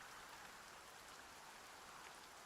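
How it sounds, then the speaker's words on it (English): Rain falling in the Dragon Quest 1&2 HD-2D game, a steady, soft hiss of rainfall, faint and even throughout with no other sounds. "It starts raining."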